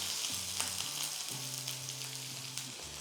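Onion with mustard seeds, dried red chilies, green chilies and curry leaves sautéing in a pan, a continuous close hiss and crackle of hot oil with a low steady hum underneath.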